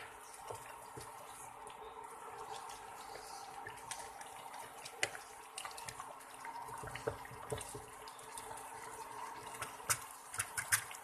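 Water pours into a cooking pot of chicken tinola with moringa leaves and Japanese soba, a faint, steady trickling and splashing that runs throughout with small clinks.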